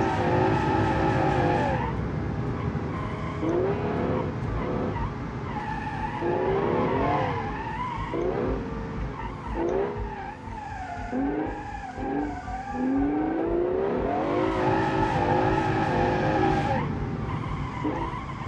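A V12-engined muscle car drifts in a racing video game, its engine roaring and rising in pitch while long, wavering tire squeals repeat through sustained slides, loud and close without speech.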